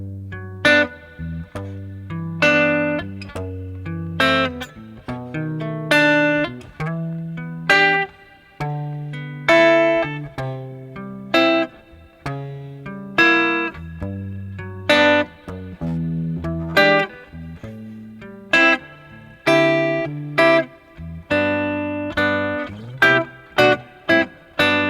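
A guitar plays the second eight bars of a song alone, as a steady run of strummed and picked chords with clear attacks and ringing sustain, heard close and fairly loud with no voice.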